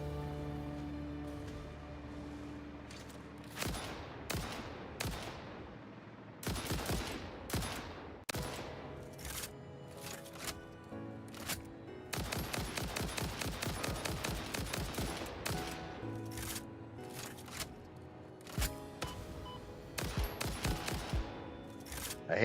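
Video game gunfire aimed at enemies comes in repeated rapid bursts of shots, some long and dense, others short, separated by brief pauses, loud and close with no talk over it.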